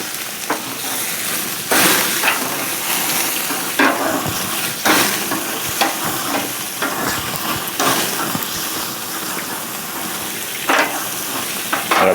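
Pit master steaks sizzle hard on a grill, a loud continuous hiss with repeated sharp scrapes and thumps as the meat is flipped over.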